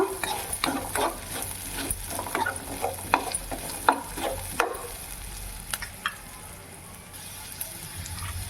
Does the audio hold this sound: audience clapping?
no